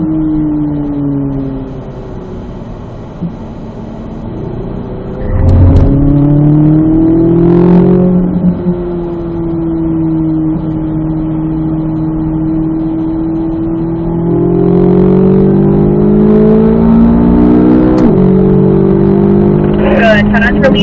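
A Corvette Z06 engine drones loudly through laps on a race track, its pitch climbing and falling with repeated acceleration and shifts, running continuously from inside the car while a voice speaks over it.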